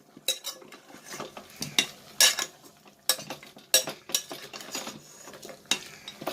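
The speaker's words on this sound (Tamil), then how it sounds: "நல்லா கிளறி விட்டுடலாம். நல்லா வதங்கட்டும் மட்டனும் சேர்ந்து கருவேப்பிலையும்." Mutton and curry leaves being stirred in a pan, giving a run of scraping metal clinks and clatters in uneven bursts, close and moderately loud with no talk.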